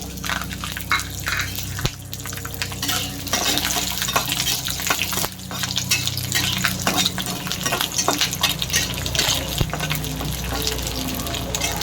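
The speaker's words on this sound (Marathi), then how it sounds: "त्यामध्ये लसूण परतून घेऊ" Garlic frying in half a spoon of oil in a pan for Maharashtrian maswadi, a loud steady crackling sizzle with occasional stirring scrapes, close.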